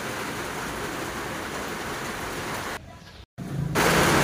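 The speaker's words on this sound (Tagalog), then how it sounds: "So grabe, ang lakas ng ulan" Heavy rain pours as a steady, loud hiss of broadband noise, cutting out briefly before returning even stronger.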